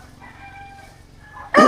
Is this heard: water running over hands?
no